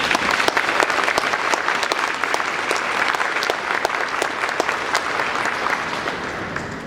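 An audience bursts into loud, sustained applause welcoming a speaker at a remembrance event, dense overlapping claps filling the room steadily throughout.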